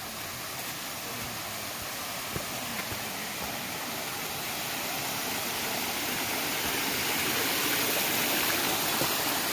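A mountain stream near a shelter on the Appalachian Trail rushes steadily beside the listener, a dense, even wash of flowing water that holds constant and loud throughout, with no voices.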